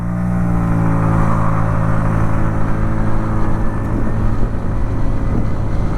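A Hero Xoom 125 scooter accelerates hard from a standstill on an open road, its engine droning loud and close with a steady, continuous hum and no talk.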